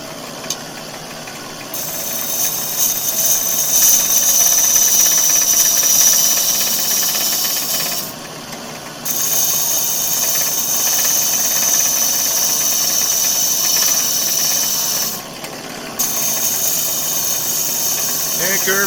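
A piece of wood spins on a woodturning lathe, producing a loud, continuous whirring hiss with a high whine that cuts out briefly twice and resumes, with no speech.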